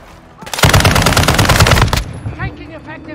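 Loud, close automatic gunfire in the Call of Duty video game, a rapid continuous burst lasting over a second, then stopping abruptly, followed by quieter scattered game sounds.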